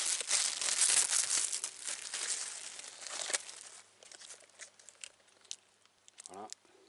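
Plastic packaging around a Harpelec B+ generator crinkles and crackles loudly and continuously at close range for several seconds, then quiets to sparse rustles with a brief tonal squeak near the end; nobody speaks.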